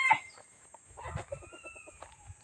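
A Chinese chicken clucks in short, soft bursts alone, opening with a sharper squawk, then a run of rapid, evenly spaced clucks at close range.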